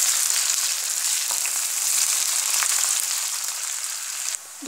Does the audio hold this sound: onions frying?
yes